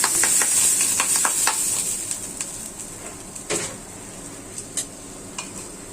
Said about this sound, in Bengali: এখন কালি জিরাগুলো টেলে নিচ্ছি।